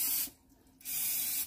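Cooking spray is sprayed onto a silicone muffin pan in two short hissing bursts separated by a brief pause, close and crisp.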